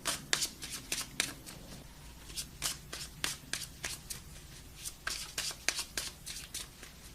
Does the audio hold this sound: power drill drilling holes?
no